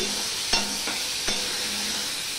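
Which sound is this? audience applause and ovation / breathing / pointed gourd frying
pointed gourd frying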